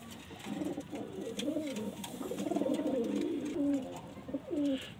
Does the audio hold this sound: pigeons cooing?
yes